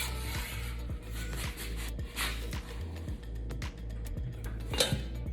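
A very large spatula scrapes under a sourdough loaf, giving steady rasping and scraping against the pan with occasional metallic clinks, over a constant low hum.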